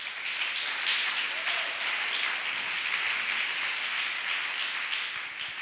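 A church congregation applauds and cheers in a continuous, dense wash of clapping that stays loud and even for several seconds, with no speech on top.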